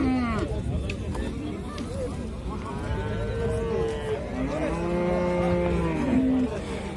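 Cattle at a livestock market in Ak-Bata, including dairy cows and young heifers, moo repeatedly in long rising and falling calls, some close and loud, over a steady crowd murmur and background chatter.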